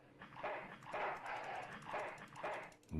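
In the video game Full Throttle, a dog barks in several sharp, close bursts that come in a loose rhythm, and a louder thump follows at the end.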